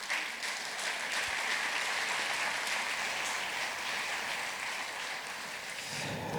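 An audience applauds in a hall at a cultural season presentation, sustained and even clapping from many people with a rain-like texture, moderately distant, continuing for several seconds without talk.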